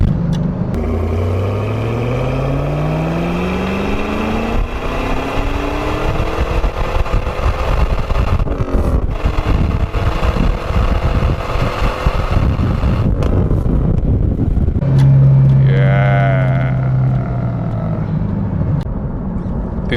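A Chevrolet Camaro Z/28 engine revs and accelerates hard, its loud rising tone sweeping up through the gears with brief drops between shifts, close and dominant throughout.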